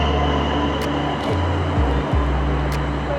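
Train pulling into a platform at a station in Malmö, Sweden, a steady low rumble with deep tonal hum and a few brief high squeals or hisses, loud and close, no talking.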